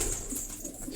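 A pigeon in a pigeon loft in Quetta gives a soft, low cooing over a steady background murmur across about a second.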